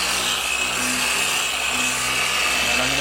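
A car polishing machine running at 3,800 OPM spreads Meguiar's product across a paint panel, giving a loud, continuous whirring rub with a steady high whine and no talking.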